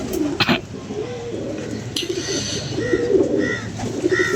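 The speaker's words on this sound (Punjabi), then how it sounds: "ਇੱਕ ਇਹ ਕਬੂਤਰ ਹੈ" Pigeons coo in soft repeated rolling calls among a flock, close and clear, with wing flutters and rustling breaking in now and then.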